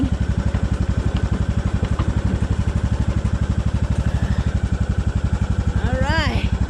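A tractor engine runs steadily nearby with a fast, regular chugging throb that never changes, and a brief chirping sound rises over it near the end.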